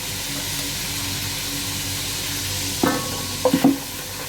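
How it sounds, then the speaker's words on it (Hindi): Ginger garlic paste frying in a pot with onions and whole spices, a low steady sizzle broken near the end by a few short scraping stirs of a spoon. "थोड़ा सा अदरक लहसुन का पेस्ट डालेंगे।"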